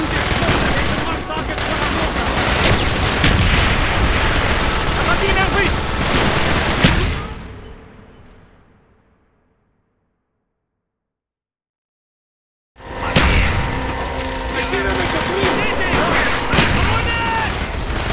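Call of Duty Black Ops campaign battle with mortar fire and dense machine-gun and rifle bursts, loud and continuous, dropping into several seconds of near silence before heavy gunfire resumes, with shouted voices mixed in.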